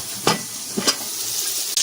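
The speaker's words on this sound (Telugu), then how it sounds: "ఇవన్నీ కలుపుకున్నాం ఒకసారి." A country chicken biryani mixture in an opened pressure cooker sizzles steadily while a spoon scrapes through it in a few short, separate stirs, close and moderately loud with no talking.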